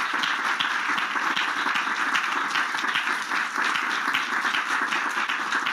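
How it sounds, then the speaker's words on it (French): Steady applause from an audience at a church gathering fills the whole stretch, dense, even clapping at moderate volume with no pauses and no talk over it. "On peut applaudir les différentes interventions."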